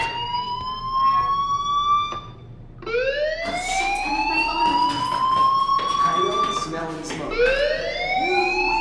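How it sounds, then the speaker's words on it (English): A fire alarm in a video game wails in rising, repeating siren sweeps, loud and near, with brief pauses between cycles. "Hey, do you hear that fire alarm?"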